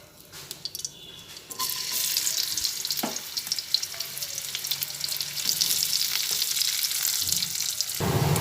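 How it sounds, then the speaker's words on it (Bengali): Chopped onion drops into hot oil in a wok and sizzles hard, a steady loud frying hiss after a quieter start, broken by a few scraping stirs and clinks. "তেল গরম হয়ে এসেছে সেই সময়ের মধ্যে কুচানো পেঁয়াজ দিয়ে দিচ্ছি"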